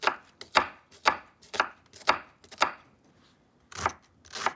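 A knife chops vegetables on a cutting board for tomato soup, about nine sharp, close thuds in a loose, uneven rhythm with a short pause before the last few strokes.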